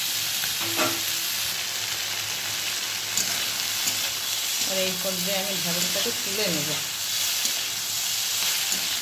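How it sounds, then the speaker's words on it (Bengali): Okra fries in oil in a pan, a steady close sizzle and hiss lasting throughout, with stirring and a voice talking over it. "খুব বেশি কড়া করে ভাজবো না, একটু মোটামুটি হালকা করে ভেজে তুলে নেবো।"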